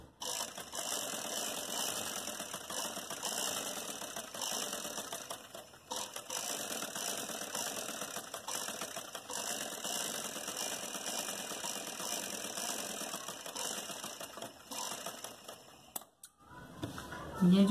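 A sewing machine stitches a cut umbrella (bell) sleeve, running in a steady, continuous mechanical whir with a fast rhythmic ratchet-like clatter for most of the stretch, then stopping briefly near the end.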